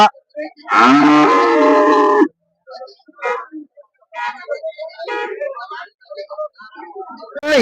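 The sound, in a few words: cows at a cattle market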